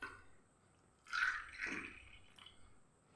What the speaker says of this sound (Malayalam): ഇതേപോലെ അങ്ങ് ഒഴിച്ചു കൊടുക്കുക